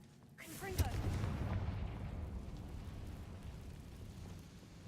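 The Confringo explosive spell cast in Hogwarts Legacy: a sudden booming blast followed by a long rumbling roar that slowly fades, heard amid ongoing game sound.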